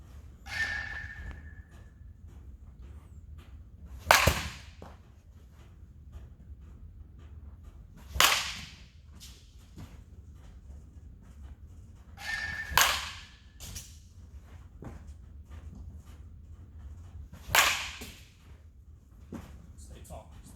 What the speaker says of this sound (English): hitting through these baseballs